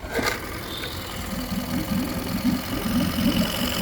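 A 2021 Yamaha F9.9 outboard motor runs steadily at a moderate level, with an even, buzzing idle and a faint click near the start.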